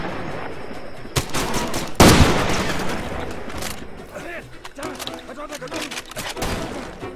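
Gunfire bursts in the video game Far Cry 2, with a sharp loud shot near two seconds and smaller crackling shots scattered through, mixed with game noise while a voice talks over it.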